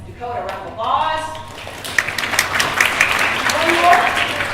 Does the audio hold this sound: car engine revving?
no